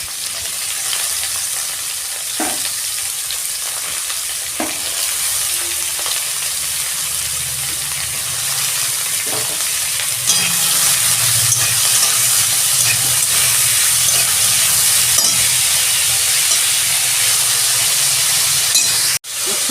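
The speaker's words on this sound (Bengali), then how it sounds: "আমি তেল দিচ্ছি, সবজিগুলো ভাজবো। এই যে ফুলকপি, গাজর আমি সব একসঙ্গে ভেজে নেব।" Cauliflower and carrot fry together in hot oil with a loud, steady sizzle and hiss, broken now and then by stirring scrapes and a few clinks, growing a little stronger partway through before cutting off abruptly.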